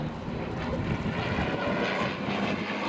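A propeller aircraft performs a barrel roll at the Shoreham airshow, its engine a loud, continuous droning roar that holds steady with only slight swells in intensity.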